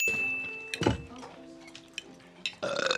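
A kid burps loudly right after gulping soda straight from a 2-liter bottle: one drawn-out belch preceded by brief clinks and followed by noisy clatter and movement, all fairly close.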